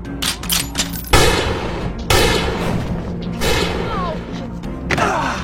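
Several sharp, loud bangs burst out at irregular intervals over a dense, rumbling background, like gunfire in a dramatic action scene.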